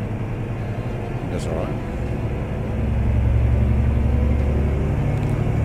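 A truck engine in Euro Truck Simulator 2 drones low and steady throughout, swelling louder partway through, with a person talking over it.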